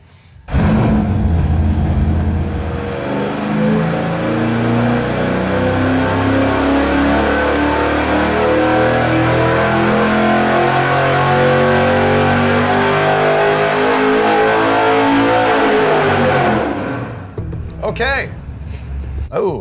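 A Weiand Roots-supercharged engine at about 5.5 pounds of boost is run up on a dyno, a loud, sustained pull with rising pitch. It then drops off sharply and winds down.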